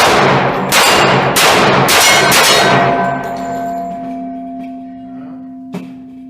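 Para Ordnance handgun firing three loud, sharp shots about a second apart, each leaving a ringing metallic decay, followed by a fading tonal hum and a faint clink near the end; no talk.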